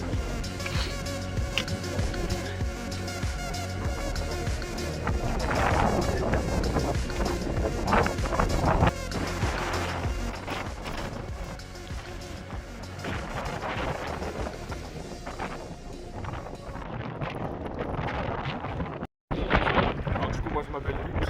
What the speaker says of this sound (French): Là le vent il commence à être un peu dangereux.